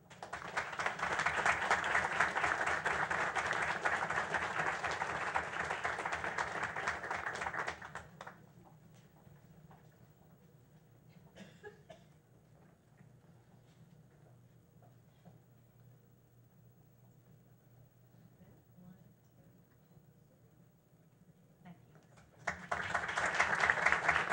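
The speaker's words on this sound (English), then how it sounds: "Let's give one more round of applause, please, to our reward schools." A school board meeting audience claps for recognized reward schools, a loud burst of applause that fades into a long quiet stretch of faint room noise, then swells again at the end.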